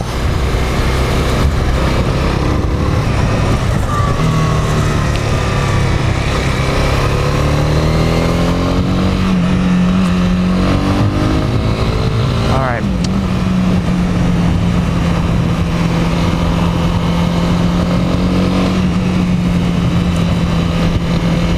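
A 2018 Honda CB300R, a single-cylinder bike of about 286 cc, droning steadily and loudly while riding. Its pitch rises and falls with throttle changes and sits over constant wind rush.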